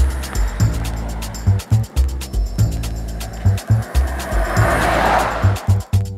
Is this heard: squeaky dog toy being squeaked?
no